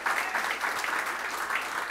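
Steady audience applause at a UNC political meeting in Chaguanas honouring the late Lloyd, dense continuous clapping from a crowd with no break and no clear talk over it.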